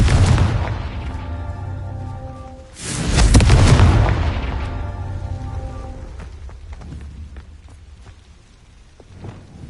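A Confringo fire-blast spell explodes in Hogwarts Legacy: a single loud, booming burst with a rumbling tail that fades over several seconds, set against quieter game ambience and tonal music.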